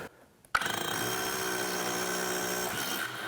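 A DeWalt rotary hammer in hammer mode starts up abruptly and runs with a loud, steady pounding roar, rattling continuously for a few seconds before easing off.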